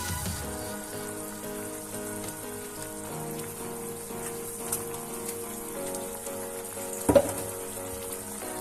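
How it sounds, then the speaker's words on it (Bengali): A continuous crackling sizzle of malpua frying in boiling sugar syrup, steady and close, with a brief louder clatter near the end. "চিনির রসটা ফুটছে, আমি এখন একটা একটা করে মালপোয়া এর মধ্যে ছেড়ে দেব।"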